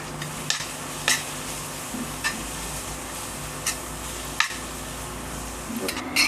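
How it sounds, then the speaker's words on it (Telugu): Coriander leaves with a little turmeric cook in a pan over a low flame, making a faint continuous hiss broken by occasional soft taps of a stirring utensil. "ఇప్పుడు ఈ కొత్తిమీరను కూడా లో ఫ్లేమ్లో కాసేపు మగ్గించుకోవాలి."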